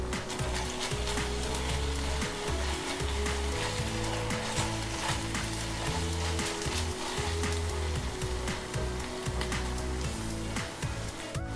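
Garlic frying in a cast iron Dutch oven, a steady dense sizzle and crackle that runs without a break, with a low hum underneath.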